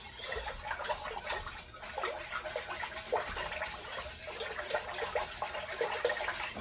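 Two quarts of unsweetened coconut milk pour into a pot in a faint, steady liquid gush with soft splashy texture throughout.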